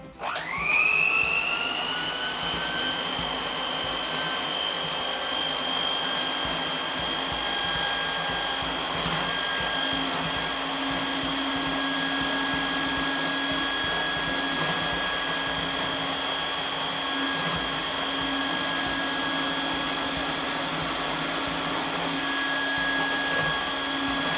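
An electric hand mixer runs at low speed, beating egg yolks with milk for magdalenas. It makes a steady, even motor whine that starts abruptly and holds for over twenty seconds, close and loud, with no speech.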